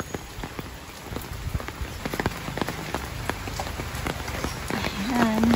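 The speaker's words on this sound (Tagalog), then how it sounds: "ang lakas ng hangin, malakas na rin yung ulan" Heavy rain patters steadily on a surface with scattered sharp drips during a typhoon with strong wind, and a voice briefly speaks near the end.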